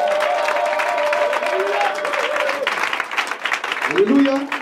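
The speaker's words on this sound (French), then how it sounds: "Est-ce qu'on peut acclamer Jésus?" A crowd at a church gathering claps and cheers in a sustained, dense burst of applause, with voices calling out and singing over the clapping.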